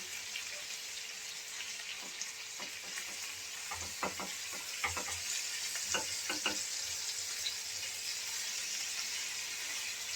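Steady hiss of prawns frying in hot oil, with a few scraping stir sounds and light clinks partway through.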